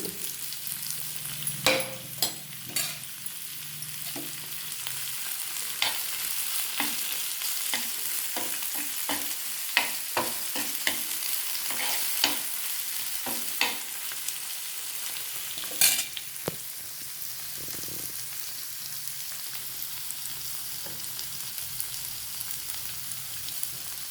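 Tomato and curry leaves sauté in hot oil with a steady close sizzle, broken by repeated sharp scrapes and clacks of a spatula stirring the pan throughout, no voices.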